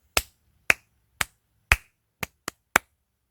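Seven sharp, isolated hand claps in a simple beginner rhythm exercise, loud and close, spaced evenly at first and then quickening near the end, with silence between them.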